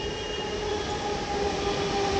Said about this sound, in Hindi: एक और भी ट्रेन आ रही है, दिखा रहा हूँ आपको।